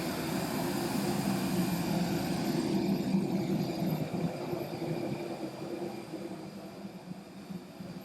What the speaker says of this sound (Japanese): 巨大な飛行機を近くから見ることができるのは一つのメリットだと思います